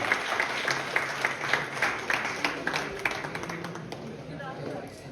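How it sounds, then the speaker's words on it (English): Conference attendees at a university valedictory session give a round of applause for the presenting team; distinct, rhythmic claps ring out near and loud at first, then fade as murmuring voices take over. "Huge round of applause for them."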